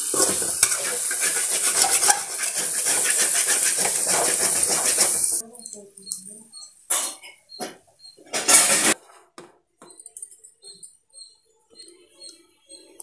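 Colocasia (chepangkizhangu) fry being stirred in a pan, with dense sizzling and scraping for several seconds, then sparse spoon scrapes and clinks against the pan with quieter gaps.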